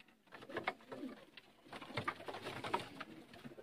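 Sialkoti pigeons coo in low, throaty bursts, several calls overlapping in a loose rhythm, fairly close and moderately loud.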